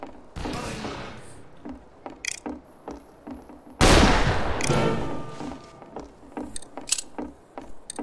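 Single-shot rifle fire in the Fistful of Frags video game: a loud blast with a long ringing tail midway, surrounded by metallic clicks and clunks of reloading and other sharp shots.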